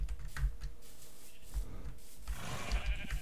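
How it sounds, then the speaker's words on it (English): Sheep bleating in the video game Minecraft, a few short bleats over steady clicking of computer keyboard typing. "Oh, look, is that sheep? Oh, yes, I found sheep."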